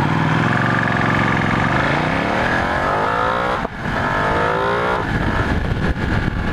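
Ducati 1199 Panigale S motorcycle engine revving loud and close, a rising throaty roar that climbs in pitch, dips briefly and picks up again.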